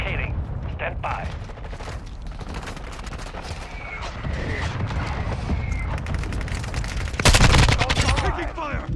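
Rapid bursts of automatic gunfire and scattered shots in Call of Duty: Modern Warfare II on the Farm 18 map, loud and dense with a heavy closing burst, mixed with battlefield clutter.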